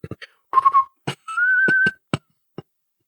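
A short whistle signal from a Zelda video game, with bright tonal whistle notes rising and holding, mixed with quick clicky game sound effects in an otherwise quiet background.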